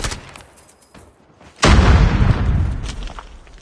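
A sudden loud blast from a grenade in a video game's combat, breaking a quieter stretch of distant shots and rumbling on for about two seconds.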